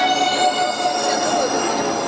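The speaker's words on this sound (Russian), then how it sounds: "мы дождались своего поезда и отправляемся в Адлер" Passenger train departing for Adler, a loud steady rumble of rolling carriages with a high wheel squeal that fades partway through, heard close up from on board.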